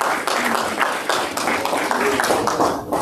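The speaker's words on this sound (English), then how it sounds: "Give your conquering King a hand clap of praise on your way down" A church congregation claps hands in praise, a dense burst of many overlapping claps across the room, steady and loud with voices mixed in.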